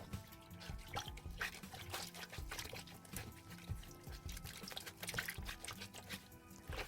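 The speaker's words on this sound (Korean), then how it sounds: "이렇게 면 주머니 안으로 물을 부어 주세요" Water poured into a cotton bag of malt to strain it for making glutinous rice red pepper paste gives a steady near trickle and drip, with scattered splashes and light handling noises throughout.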